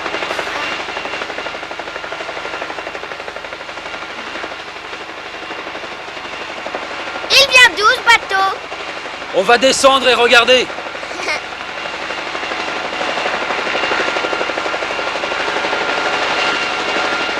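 A helicopter in flight gives a continuous, loud rotor and engine drone throughout. Two short bursts of talking cut in over it partway through.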